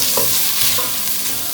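Rice and dry spices, including salt, biryani pulao masala, red chili powder and turmeric, stirred in a hot frying pan for masoor pulao, giving a loud, close, continuous sizzle with scraping stirs and no speech.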